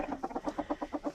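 Roosters clucking inside a snowbound chicken coop, a rapid, steady run of throaty clucks, about nine in a row, close and fairly loud with no talking over them.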